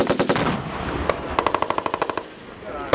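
Marine Corps machine gun section firing on a desert range at 29 Palms: an opening burst of sharp shots, a lone report, then a steady rapid string of about ten evenly spaced rounds, loud and close, with shouted commands between bursts.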